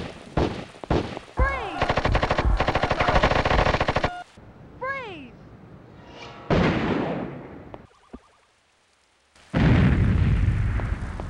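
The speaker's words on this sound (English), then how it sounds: "The gunfire all sounds fine, as well as the explosions." Rapid bursts of video game gunfire from the PS1 game Urban Chaos rattle in fast volleys, broken by whooshing, falling tones and booming explosions, with brief silent gaps between.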